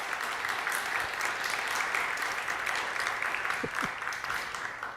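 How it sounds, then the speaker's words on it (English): Applause from the audience at an 8th grade academic awards event, honoring middle school faculty, with steady, moderately distant clapping throughout and a faint voice briefly under it. "If you could just help me give them a round of applause."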